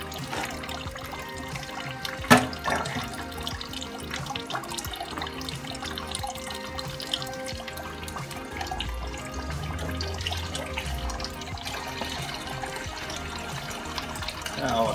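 Coolant water running and trickling out of an IMT tractor radiator after a hose clamp is loosened in a garage, a steady pouring sound that continues throughout the clip.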